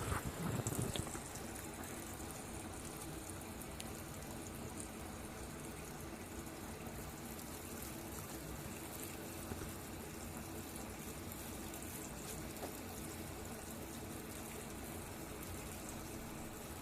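Water pours steadily into a brewing vessel on a pale ale brew day, a continuous broadband rushing and splashing that starts with a brief louder gush and then holds even, with no voices.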